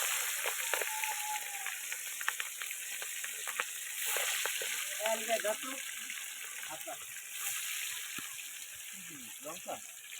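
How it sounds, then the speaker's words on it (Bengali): Steady broadband sizzling of fish frying in a wok, moderately loud and continuous, with occasional stirring clinks and a voice talking over it. "কড়াইতে মাছ দিচ্ছে, এখন মাছ ভাজা হচ্ছে আমাদের"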